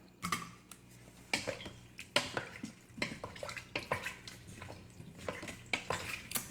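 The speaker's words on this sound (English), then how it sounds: "I'm just stirring this up now." A spoon stirs buffalo chicken soup in a pot, giving soft irregular clinks and scrapes against the metal, faint and close, with no voices.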